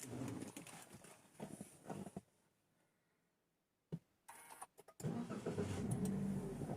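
A car engine cranks and starts, then settles into a steady idle, with a brief pause of near silence before the final rumble.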